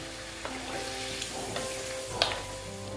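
Pumpkin pieces frying in a pan hiss and sizzle steadily after a little water goes in, with a couple of faint knocks and scrapes from a utensil; no voices.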